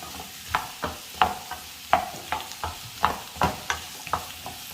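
Pumpkin and drumstick pieces are sautéed in a pan, with a steady faint sizzle under repeated sharp scrapes and clacks of a spoon stirring, roughly two or three strokes a second.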